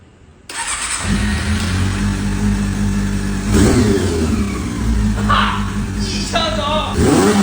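A restored Honda CB400 motorcycle engine fires up and settles into a steady, close idle with a brief rev, while a voice talks over it.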